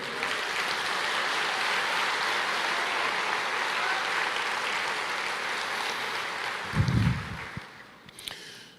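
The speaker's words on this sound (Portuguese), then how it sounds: "Aleluia, você pode aplaudir o Senhor?" An audience applauds during a church service, a steady wash of clapping that holds for several seconds before fading, with a brief low thump near the end.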